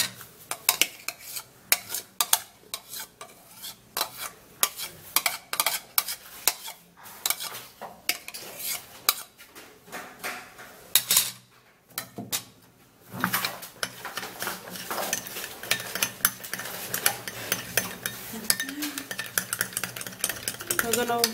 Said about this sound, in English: You're gonna take your time to stir and mix this up really good.